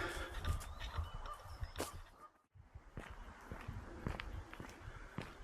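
Geese honk intermittently at a distance over outdoor ambience, with scattered nearby rustles and footstep-like thumps.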